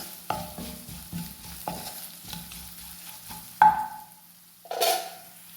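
Turmeric powder roasting briefly in a pan gives a faint sizzle under a series of spoon scrapes and taps against the pan, with two brighter metallic clinks toward the end, close and quiet, with no voices.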